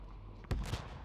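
A muffled explosion booms in The Division 2 at the Coney Island Ballpark, one heavy blast followed by a smaller rumbling burst, set against a low steady game ambience.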